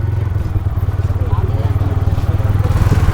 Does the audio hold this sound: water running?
no